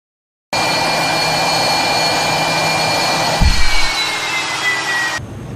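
Fighter plane engines in the video game The Rim of Heaven roar in a loud, sustained jet-like drone with a steady whine, briefly swelling with a low rumble before cutting off abruptly near the end.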